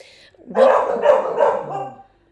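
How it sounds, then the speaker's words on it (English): Several dogs bark in a quick cluster of three or four loud yelps and woofs, close by, ending in a trailing whine. "there's the dogs."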